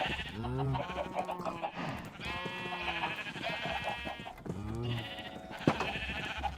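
Several Minecraft sheep in a pen bleat in a series of nasal, wavering calls that come in close, overlapping bursts at a moderate level.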